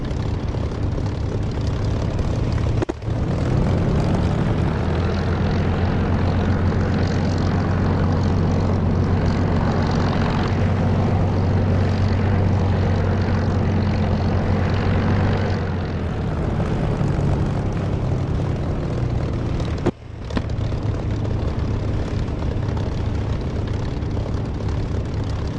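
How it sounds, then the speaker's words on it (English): A propeller aircraft in the DCS flight simulator powering up on the centre runway for takeoff, a loud continuous engine drone with a rising tone, briefly dipping twice, with no talking. "so I'll move centre runway and take off."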